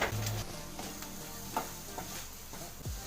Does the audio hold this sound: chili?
yes